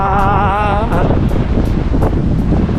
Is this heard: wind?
yes